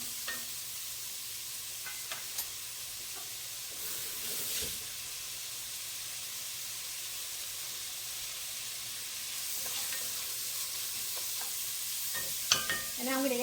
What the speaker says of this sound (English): I'm going to put some pieces of celery in, not too much, just a little bit